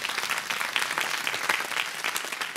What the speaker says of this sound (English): give God a big hand clap